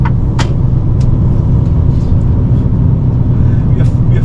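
A car drives along with a loud, steady low road and engine rumble filling the whole stretch, a few short clicks and knocks rising briefly above it.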